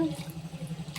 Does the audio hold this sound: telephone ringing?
no